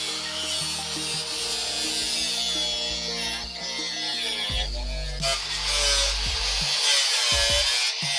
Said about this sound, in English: I think I can use a Sawzall for this part